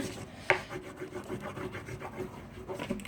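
Continuous scratchy rubbing of a green colored pencil on paper, with short back-and-forth strokes and one sharp tap early on, close up.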